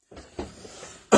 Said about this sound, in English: Try to clear my throat, even though it's not gonna, because it's scratchy